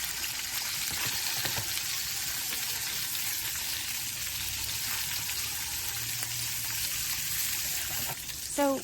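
A yellowtail fillet sears in a hot pan with a steady, close, even sizzle and frying crackle that runs throughout, and a brief clatter near the end.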